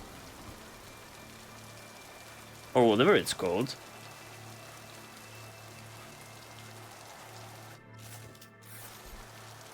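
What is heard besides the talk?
torrential rain in the video game Mass Effect 2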